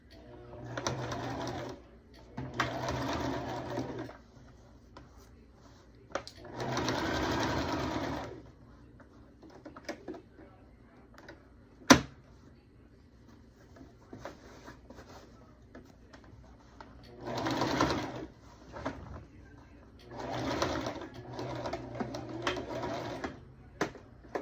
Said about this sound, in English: And then we're basically doing the same thing, just pivot so that we can turn it and sew our box, our square.